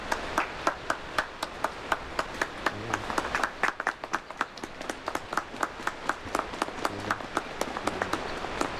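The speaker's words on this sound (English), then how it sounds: "Stop clapping." A small group claps after a wedding pronouncement on the Breaking Dawn film set, sharp distinct claps that settle into a steady, fairly quick rhythm, with faint voices underneath.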